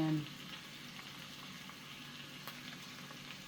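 Cabbage fries in a pan for a beef and cabbage casserole, a faint, steady sizzle with a soft crackle and a brief clink at the start.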